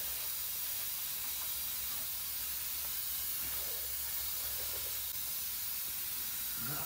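An aerosol cleaner sprays over the differential gasket area of a Ford F-250 7.3 during an AFE cover install, a steady, unbroken hiss lasting several seconds at close range.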